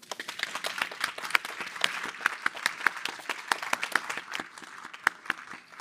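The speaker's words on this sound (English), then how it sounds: "join me now for a massive round of applause for everybody that have been part of this" Audience applause at the close of a panel event, steady clapping from a room of people with sharp individual claps standing out, moderately loud and sustained with no talk over it.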